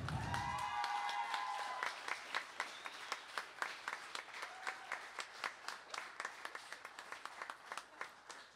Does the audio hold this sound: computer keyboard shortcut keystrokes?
no